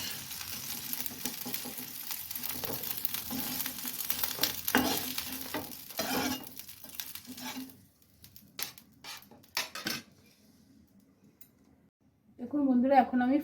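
Eggplant slices fry in a pan with a moderate sizzle and occasional scrapes and clinks of a utensil. The frying fades midway, leaving sparse clatter, and a voice briefly speaks at the end.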